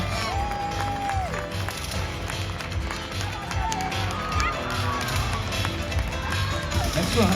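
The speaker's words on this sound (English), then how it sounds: "let's have a big round of applause for Nobby, the Novicorn" An audience applauds and cheers for a sheep at a college lambing weekend, a steady, dense wash of clapping and crowd noise running the whole time with a voice talking over it.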